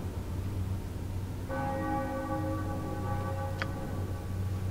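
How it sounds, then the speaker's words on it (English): A single bell chime rings out at a ritual altar in Baldur's Gate 2, its clear tone sustaining and slowly decaying over a steady low ambient drone, with a brief sharp click near the end. "I ring the bell. The bell chimes once,"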